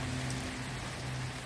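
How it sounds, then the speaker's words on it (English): Steady rain falls outdoors over a private bonsai collection of old juniper trees, a constant close hiss of drops on surfaces with a low hum beneath, no voices. "Currently raining, but that's okay."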